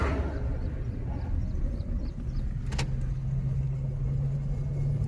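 A car engine hums inside the cabin during a driving lesson as the clutch is slowly released, a steady close rumble that rises into a firmer low drone toward the end, with no talk.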